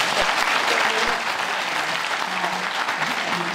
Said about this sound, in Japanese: どうか皆さんね、とにかくあの 頑張ってくださいという拍手を佐藤さんに